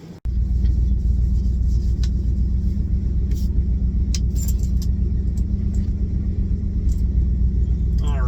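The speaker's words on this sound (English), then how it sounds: "this engine has a big old broken manifold right here, and you know, it's not loud at all," A classic car engine with a broken exhaust manifold idles steadily and close by, a continuous low rumble throughout with faint ticking and small clicks on top.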